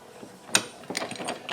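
Metal case assembly tool handle flipped out and threaded on, a few faint close clicks and ratcheting mechanical ticks over a quiet second and a half.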